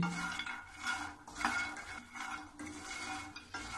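Makhana (fox nuts) being dry-roasted in a pan, with quiet rhythmic scraping and light rattling clinks as the spatula stirs them, faint and close with no voices.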